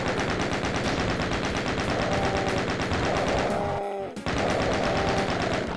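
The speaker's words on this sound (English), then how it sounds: "there go all of my minigun rounds" Minigun firing nonstop in the classic DOOM video game, a dense, rapid mechanical rattle of shots held for several seconds, briefly cutting out near the end before resuming at full volume.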